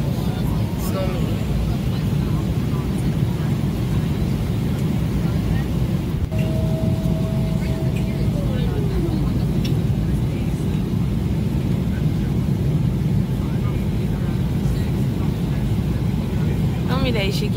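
Continuous low roar of airplane cabin noise during turbulence on approach to Washington DC, a dense steady rumble with a brief descending tone in the middle and a voice talking over it.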